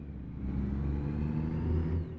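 In American Truck Simulator, a truck engine downshifts with a deep, steady rumble that rises slightly in pitch and holds loud and close.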